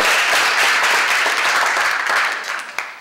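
An audience at a 2012 youth summit breaks into loud, continuous applause, a dense wash of clapping that fades slightly at the end.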